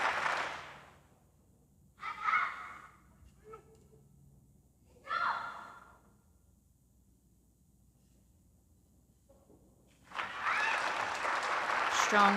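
Audience applauding after a taolu competition performance, with bursts of clapping rising and fading several times and a larger sustained round of applause at the end.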